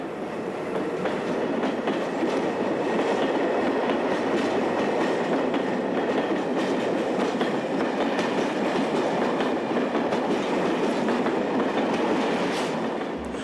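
A train of air-conditioned stainless steel passenger coaches running on an electrified main line in Portugal, a continuous rumbling roar with a faint rhythmic clatter of wheels, steady and fairly loud throughout.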